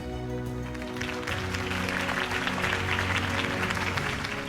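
A video game crowd applauds after a campaign speech, a dense, steady wash of clapping that holds at an even level throughout, with a faint musical hum underneath.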